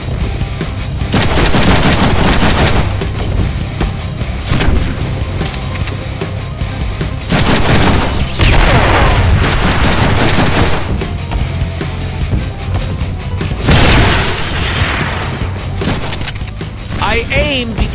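Heavy gunfire from a large weapon in the Deadpool video game, loud sustained bursts of shots and booms running through the clip, with game voices and speech over them.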